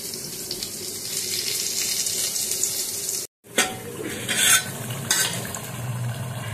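Goat meat coated in ground spice paste sizzles in an aluminium pot, a steady close frying hiss with stirring clatter, broken by a brief dropout midway before the sizzle returns with a louder scrape.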